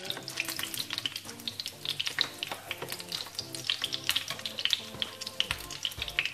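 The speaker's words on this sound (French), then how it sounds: "Donc je vais colorer mes beignets au moins 5 minutes, 5 à 6 minutes par face." Jam-filled beignets frying in hot oil as they brown on each side, a steady close sizzle with crackling pops and bubbling throughout, no voices.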